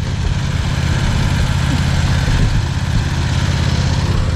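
A lawn mower engine runs in a loud, steady low rumble close by on a road, holding an unbroken idle throughout with no voices.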